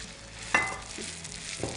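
Kebabs fry in a pan with a soft, low sizzle, broken by a couple of brief scraping or stirring touches, close and quiet with no voices.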